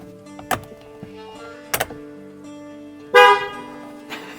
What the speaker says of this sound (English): so the horn is working